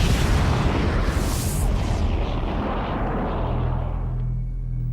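A loud, deep explosion standing for the Big Bang at the birth of the universe, bursting with a bright crack and then rolling into a long low rumble that fades out.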